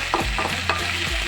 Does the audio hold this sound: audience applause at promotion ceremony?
no